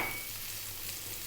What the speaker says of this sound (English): We're going to start off by dropping in our garlic and ginger.